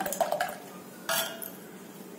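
A utensil clinks and scrapes in a bowl while ragi flour batter is stirred with water, a few light taps followed by one brief louder scrape, close and quiet.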